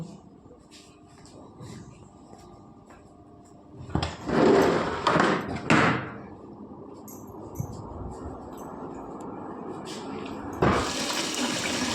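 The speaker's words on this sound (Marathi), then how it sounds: "आता आपण स्वच्छ पाण्याने ती धुवून घेणार आहोत" Water splashes and sloshes in short bursts as ration rice is rinsed, followed by a steady pouring or running-water sound toward the end.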